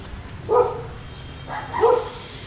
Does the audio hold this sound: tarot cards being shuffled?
no